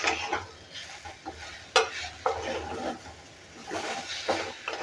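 Jaggery is stirred into sweet potato in a pan, with soft scraping and clinking stirs over a gentle sizzle, coming in uneven bursts.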